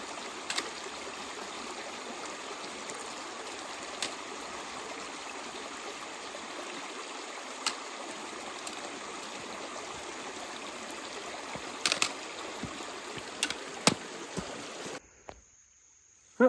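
A small stream trickles and flows beside a sheltered alcove campsite on the Sheltowee Trace near Chimney Top Creek in Red River Gorge, a steady close babble with faint clicks, cutting off abruptly near the end.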